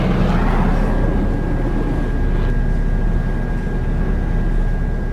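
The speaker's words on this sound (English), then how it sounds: "Aircraft carrier." A military aircraft carrier heard as a steady, loud low rumble of engines and machinery, continuous and broadband throughout with no speech.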